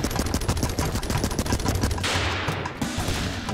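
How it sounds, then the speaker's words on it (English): Rapid machine gun fire in the video game Ape Out, a dense, continuous burst of loud gunshots rattling close up, shifting slightly in tone partway through, with no talk over it. "Oh, you get a machine gun?"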